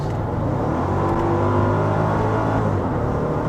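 A Mercedes E55 AMG's 5.4-litre V8 hums and revs steadily throughout, loud and close, with its rising and falling engine tone and no talking over it.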